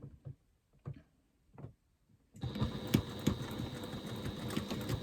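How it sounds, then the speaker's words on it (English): A few soft handling taps come first, then a sewing machine starts up and runs steadily, stitching a quarter-inch seam with a close, even mechanical whir. "I'm taking it over to the machine, and I'm going to stitch at a 1/4 inch seam allowance"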